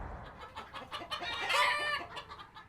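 Backyard chickens at a farm museum cluck and squawk in a busy, overlapping chorus, moderately close, with a louder burst of calls midway.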